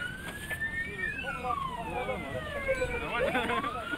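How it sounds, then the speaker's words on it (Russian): Several emergency sirens wail at once during an airport emergency drill around a burning aircraft, their sweeping tones overlapping at moderate distance, while a person talks over them. "Кареты скорой помощи уже на месте."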